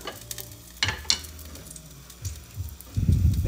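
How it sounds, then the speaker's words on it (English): Garlic sizzles in hot shimmering oil as it is stirred around, with soft crackling and scraping clatters, loudest at the end when it hits the pan. "Again, a nice little sizzle."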